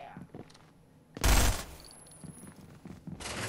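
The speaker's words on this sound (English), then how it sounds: "This is a BB gun, by the way, see?" A BB gun fires a short, loud burst of rapid shots inside a shopping mall, a sharp cracking flurry lasting under half a second. Quieter voices and movement come before and after it.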